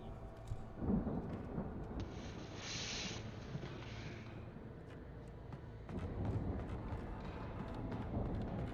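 Thunderstorm in the Alan Wake video game, with a deep rolling rumble and steady rain hiss swelling and easing over several seconds, heard without talk.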